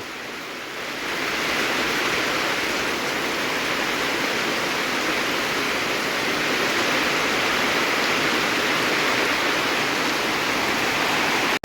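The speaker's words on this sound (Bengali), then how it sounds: "বৃষ্টিতে উপরে জল পড়ছে" Rainwater pouring down from a roof onto a freshly cast concrete lintel, a dense steady rushing splash like a small waterfall, loud and close, unbroken for the whole stretch with no talking.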